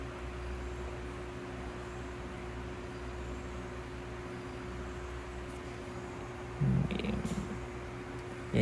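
A house cat purrs softly and steadily at an outdoor resort setting in Laguna, a low continuous rumble under faint background hum, with a few brief louder bumps near the end.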